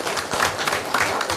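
A brief, light round of audience applause for the police department at a city council meeting, quiet and lasting only a moment.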